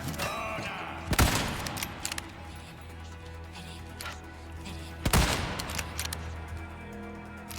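Rifle fire in Resident Evil 4 Remake, with two sharp loud cracks about four seconds apart, each followed by a brief rattle, over a low ambient game backdrop.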